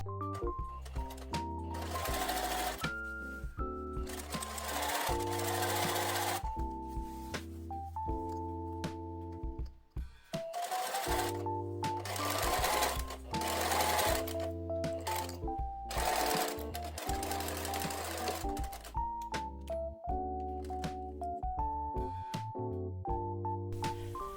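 Sewing machine stitching fabric for a gathered-sleeve drop-shoulder shirt dress, running in long steady bursts with brief pauses between seams, close and loud.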